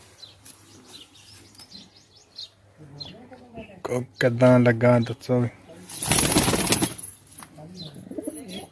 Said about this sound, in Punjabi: ਕਾਲੀ ਅੱਖਾਂ ਦਾ ਜਾਗ ਡੱਬਾ ਕਬੂਤਰ